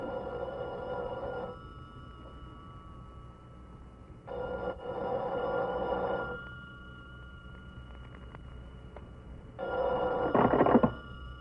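A telephone rings in a radio drama, with three clear, loud bursts of electronic ringing separated by pauses of quiet room tone and no voices.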